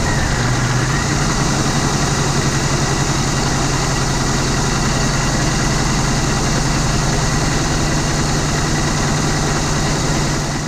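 The supercharged engine of a 2003 Pontiac Grand Prix GTP fitted with an M90 supercharger settles into a loud, steady idle, a continuous close rumble with a faint start-up flutter at the very beginning and no talk.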